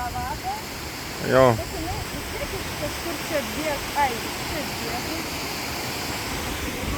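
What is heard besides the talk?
mountain river flowing on Madeira levada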